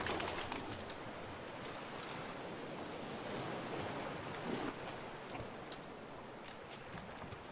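Ocean waves in the video game Raft, a dense and steady rush of surf close by, with a slight swell midway and no voices.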